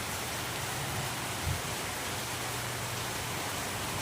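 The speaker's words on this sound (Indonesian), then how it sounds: "Sore-sore hujan ini." Afternoon rain falls steadily outdoors as a dense, even hiss that holds constant throughout, with no talk.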